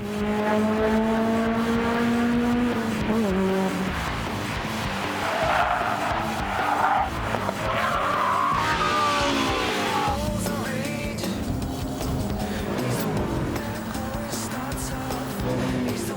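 Tires skid and squeal as a car spins out during a slalom test in Gran Turismo, with drawn-out, wavering screeches over a loud engine drone that runs for many seconds.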